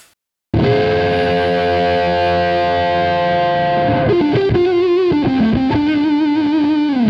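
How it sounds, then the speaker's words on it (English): A heavily fuzzed electric guitar through a Fuzz Face-style pedal sustains a thick distorted chord, then shifts into gritty single-note bends and licks, loud and up close. "So this is what the fuzz pedal sounds like."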